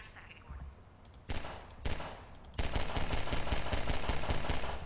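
Pistol shots ring out in Half-Life 2 combat, first a few separate cracks, then a dense run of rapid fire that carries to the end, loud and close.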